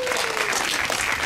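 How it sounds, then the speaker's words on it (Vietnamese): Audience applause at a press event for a new music video, a steady dense wash of clapping filling the short moment with no voices over it. "một tràng pháo tay"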